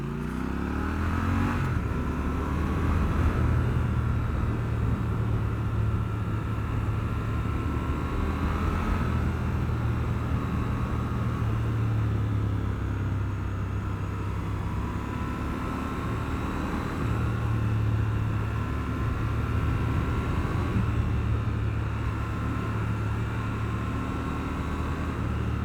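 A Triumph Scrambler 1200 XE engine drones steadily while riding, a deep, even exhaust note that holds throughout with a few slight swells as the rider shifts down, loud and close with no voices.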